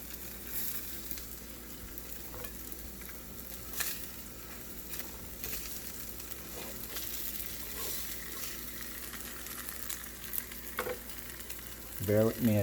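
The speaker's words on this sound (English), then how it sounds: "so I didn't put no oil in the pan, so I think I can only fit 1 patty in there." A mutton and pork burger patty frying in a dry, unoiled pan: a steady, close sizzle runs throughout with occasional stirring clicks, and a louder clatter comes at the very end.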